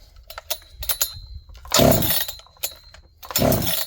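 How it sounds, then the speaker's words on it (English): Clicks and rattles of handling are followed by two harsh, brief bursts of a John Deere CS81 chainsaw starter being yanked, with the engine failing to catch. "How not to start a chainsaw."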